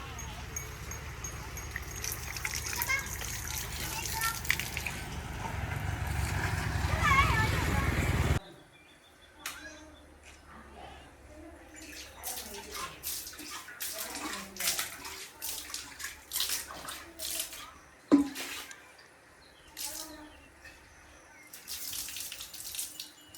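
A child washes hands under running tap water at a village home. Steady splashing flows for about eight seconds, then stops, leaving a quieter background with scattered small knocks and faint outdoor sounds.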